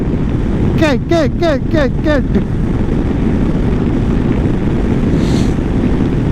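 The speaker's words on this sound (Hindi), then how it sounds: "अब मैं हूँ 100 पे, वही 1200 सीसी का इंजन है तो पावर तो देगा ही ना" A 1200cc motorcycle cruising at about 100 on a Delhi to Ranthambore road trip: a steady, loud roar of wind buffeting the microphone blends with the engine drone throughout, with a quick run of chirping tones near the start.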